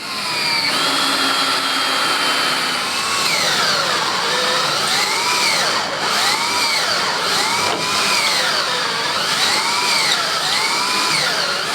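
A power drill whines steadily and loudly for several seconds, its pitch rising and falling in regular surges as it bores a hole through a wooden door.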